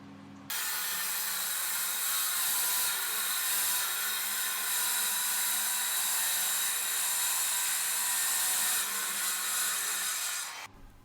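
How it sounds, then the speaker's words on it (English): A track saw rips plywood scraps to size on a table, a loud steady cutting whine running continuously for about ten seconds before stopping abruptly, with no talking. "I'm going to use this table and my track saw to get them cut to size."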